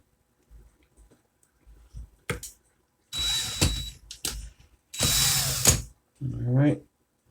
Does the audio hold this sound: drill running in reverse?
yes